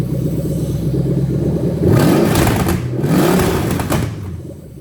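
Toyota 1UZ-FE V8 with VVT-i and drive-by-wire throttle revving close by, two sharp rises and falls of engine pitch over a steady idle, no talking.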